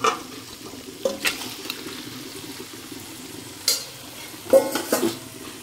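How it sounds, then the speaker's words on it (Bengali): Marinated chicken goes into hot oil for a Bengali chicken kosha, giving a quiet sizzle under several sharp stirring and clattering bursts from a spoon against the pan, close by with no voices. "চিকেনটা দিয়ে আমি ভালোভাবে কষিয়ে নেব।"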